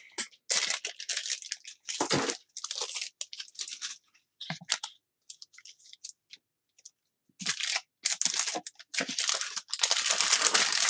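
A Game Gear RePCB circuit board being unpacked, with loud, close crinkling and crunching of packaging in irregular bursts separated by short pauses.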